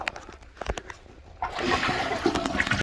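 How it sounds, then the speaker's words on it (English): A neglected toilet bowl is flushed, with a few small clicks and taps before a loud, rushing wash of water surges in and keeps churning steadily up close. "Alright, we're going to flush the toilet now."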